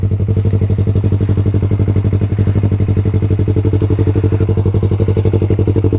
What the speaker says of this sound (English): I love this motorcycle.